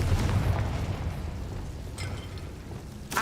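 Confringo blasting curse explosions in Hogwarts Legacy: a loud booming burst at the start that rumbles and fades, followed by a brief sharper crack and a final burst at the end.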